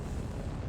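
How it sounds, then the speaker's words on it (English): Fireworks rockets exploding in the video game Fireworks Mania, a dense, loud roar of overlapping booms and crackle filling the whole moment. "there's just fireworks and lights everywhere"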